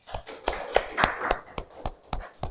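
A small classroom group of students claps for a classmate, about ten sharp, uneven claps spread over a couple of seconds, close and moderately loud with no talking.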